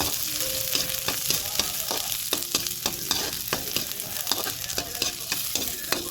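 Onions sautéing in a pan, a loud constant sizzle punctuated by regular rhythmic clacks of a spatula stirring against the metal.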